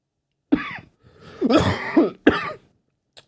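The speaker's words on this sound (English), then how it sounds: "And excuse my cough, y'all." A person coughs several times in quick bursts, close and harsh, followed by a brief pause and a faint click.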